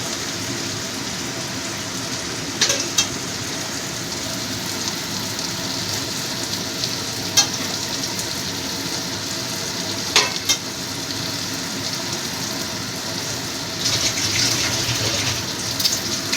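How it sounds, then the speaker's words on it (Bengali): Okra (bhindi) frying in a pan with salt, a continuous close sizzle and crackle with a few sharp clinks of a utensil stirring, no voices. "ভালো করে ভেজে নেব।"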